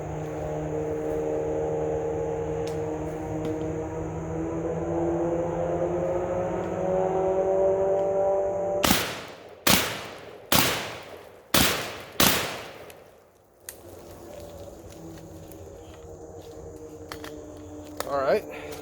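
An Armelegant ANG-4 12 gauge semi-automatic AR-style shotgun fires five loud, sharp blasts in quick succession at a range, with a motor-like hum before and soft handling noise after.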